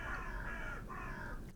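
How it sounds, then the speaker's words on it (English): Crows on a roof caw repeatedly in a faint, hoarse chorus of overlapping calls. "there's some crows arguing on the roof"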